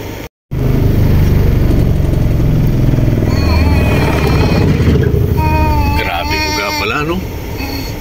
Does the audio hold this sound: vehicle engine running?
yes